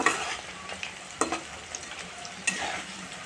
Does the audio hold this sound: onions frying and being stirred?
yes